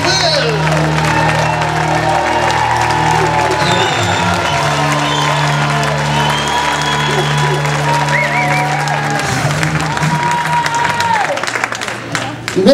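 A comedy club audience applauds and cheers as a comedian takes the stage, with steady clapping, whoops and crowd noise lasting throughout, while music and an announcer's voice carry along beneath the din.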